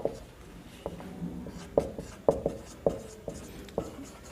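Chalk tapping and scraping on a board during a maths lesson on combinations, with about eight sharp taps and short strokes spaced irregularly, close and moderately quiet against a faint room background.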